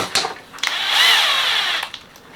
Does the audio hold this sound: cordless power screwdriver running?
yes